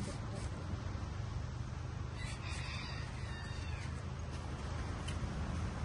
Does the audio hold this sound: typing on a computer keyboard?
no